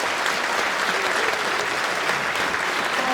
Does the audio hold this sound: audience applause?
yes